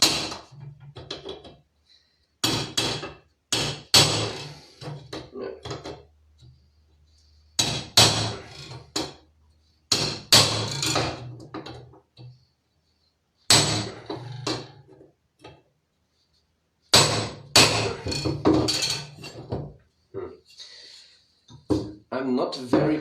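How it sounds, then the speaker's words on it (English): A blunt chisel is struck with a hammer in sharp, separate bursts of knocks and taps, close and fairly loud, broken by quiet gaps. "this time I'm trying to do it with a blunt chisel"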